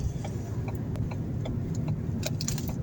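An automatic car pulls out of a roundabout onto a 70 km/h road, its engine a steady, close mid-pitched hum with a few light rattles and clicks from inside the cabin.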